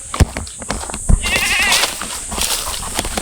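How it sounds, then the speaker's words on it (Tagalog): A young carabao (water buffalo) calls on a farm with a bleating, nasal cry in short bursts against outdoor background noise. "Ito yung bagong kalabaw guys. Bata pa siya."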